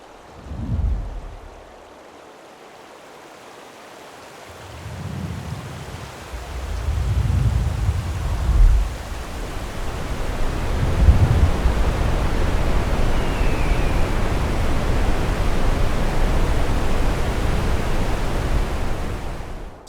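Rushing water and the roar of a waterfall during an FPV cinewhoop drone flight, rising from a quieter opening into a loud, steady broadband roar that holds to the end.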